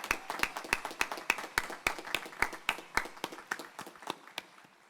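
Applause at the Elizabethtown College 2023 commencement ceremony, scattered individual claps forming a loose, uneven rhythm of sharp slaps that thins out toward the end, moderately close and heard alone.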